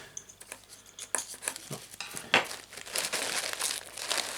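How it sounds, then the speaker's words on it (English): A knife in need of sharpening slices through the tape and cardboard of an unboxing package, giving a run of close, dry crinkling and tearing scrapes that thicken and grow louder over the last couple of seconds. "Knife cutting. Knife cutting needs sharpening."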